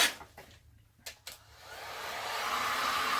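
A heat tool blows hot air over a fluid acrylic resin pour on canvas, starting after a few soft knocks and swelling into a steady, close broadband hiss that grows louder and holds for the rest of the stretch.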